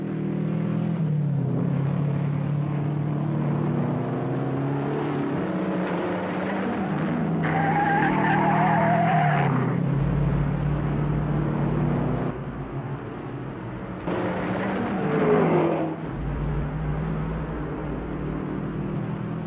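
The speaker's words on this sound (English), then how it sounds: "Despite this spin, Dwayne Carter went on to finish 12th." A 1960 race car engine roars steadily, broken twice by squealing tire skids as the car spins, with a low rumble throughout.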